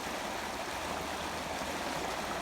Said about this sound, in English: See how low the creek is.